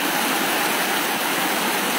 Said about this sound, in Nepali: घरतिर पानी पसेको